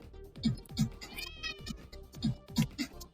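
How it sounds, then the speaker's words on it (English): Cat meow sound effects from a student-made video game repeat in short, rhythmic bursts, several in quick succession, fairly quiet beneath faint background sound. "I think we get a meow sound effect, right?"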